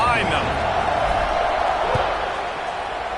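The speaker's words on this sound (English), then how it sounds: "this crowd now ready to get behind them" Football stadium crowd at a kickoff in a college game between ASU and NC State, a steady loud roar of cheering that holds for several seconds with a brief thud partway through and an announcer talking over it.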